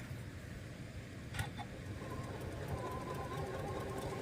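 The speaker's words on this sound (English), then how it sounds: "Top stitching right there on that line." A sewing machine top stitching a fabric table runner, its motor whirring in a steady, continuous drone close by with a brief clack partway through.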